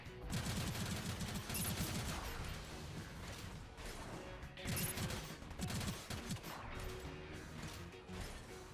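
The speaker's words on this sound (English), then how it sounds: "His machine gun fires rapidly, but only does real damage at mid to close range." In the video game Gundam Evolution, the Zaku II's machine gun fires in rapid, dense bursts. The shots are loud and close, with crashes and whooshes layered amid the chaotic game action.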